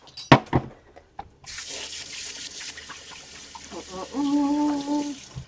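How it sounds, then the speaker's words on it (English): A kitchen sink tap runs as hands are rinsed under the stream, a steady close splash of water following a few clicks and handling noises, with a brief voice near the start. "I'm going to rinse my hands off."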